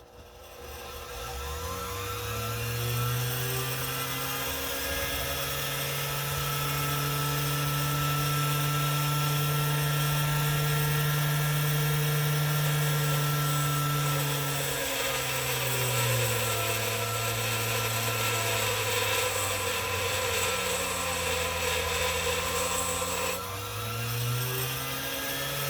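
A bench grinder runs steadily against a coin being shaped into a ring, its motor holding a loud, even whine for most of the stretch with a brief dip in pitch near the end as the load changes.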